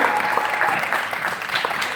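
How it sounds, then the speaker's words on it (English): Steady, dense applause fills the room as an audience keeps clapping for a panelist making her way onto the stage at a panel discussion. "Clap her all the way up until she gets up to the stage"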